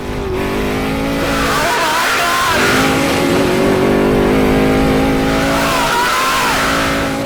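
Ford Ranger race truck in a days-long desert race roaring past with engine revving and shifting, loud and close, the engine pitch rising and falling as it approaches and passes, then a second surge near the end.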